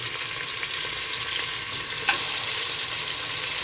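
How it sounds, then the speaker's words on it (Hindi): Mutton frying in ghee for Lucknowi kundan kaliyan, a steady close hiss of bubbling fat with light crackle throughout and one brief sharp tap near the middle, no voices. "घी में हमको मटन भूनना है बहुत अच्छी तरह से"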